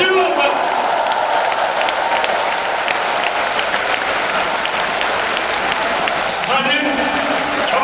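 A large church audience at a prayer gathering breaks into sustained, dense applause for a choir, loud and steady throughout, with a voice briefly heard near the end.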